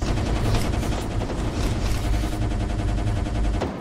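Rapid gunfire from the VR shooter game Run of Mydan fills the whole stretch as a dense, loud fusillade of overlapping shots with no pause and no talking.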